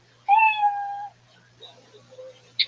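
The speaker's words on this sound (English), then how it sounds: "And you hear the sound of a kitty." A cat meow sound effect used as a time-up signal: one drawn-out, clear meow near the start, followed by a few faint chirpy scraps and a brief sharp burst at the end.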